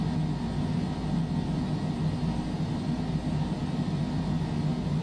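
Airplane engine roar during a takeoff on runway 10 at LSCH in Microsoft Flight Simulator 2020, a steady, loud, broadband drone with strong low rumble that holds level throughout, with no talk over it.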